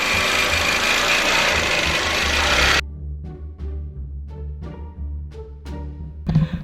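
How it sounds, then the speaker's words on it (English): A longarm quilting machine sews a quilt down, running as a steady, loud mechanical hum for nearly three seconds before it stops, leaving quieter scattered clicks and handling knocks. "Now I'm gonna go ahead and sew it completely down."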